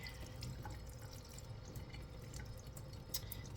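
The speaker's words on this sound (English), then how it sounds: "rinsing our pasta" Running tap water pours steadily over pasta being rinsed in a kitchen sink, a close, continuous splashing rush with small drips, and no talk.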